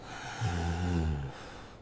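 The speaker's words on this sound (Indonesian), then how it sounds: "Hembuskan napas perlahan melalui mulut" A person breathes out slowly through the mouth in a steady, soft, breathy exhale that lasts about a second during a breathing exercise for effective coughing. A low tone hums under the breath.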